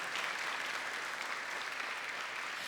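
A church congregation applauds together, a dense, even wash of clapping that holds steady throughout without a break.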